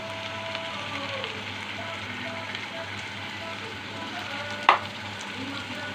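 Steady frying sizzle of garlic paste with softened onions, a crackling hiss throughout, one brief clatter near the end; faint talk may sit underneath.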